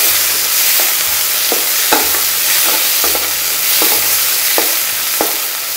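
Chicken fries in a pan with ginger and garlic, giving a loud continuous sizzle broken by regular scraping strokes of a spatula stirring the pieces, about one every half second, close up with no voices.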